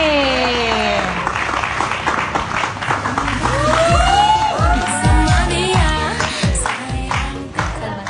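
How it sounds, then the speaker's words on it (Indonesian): A studio audience on an Indonesian TV show claps and cheers as a mystery guest comes out, with whoops and shouts over the applause and music playing underneath. "Tepuk tangan untuk mystery guest saya berikut ini."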